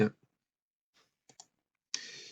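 A computer mouse gives a few sharp, sparse clicks in quiet surroundings, close and isolated, with a short burst of noise at the end.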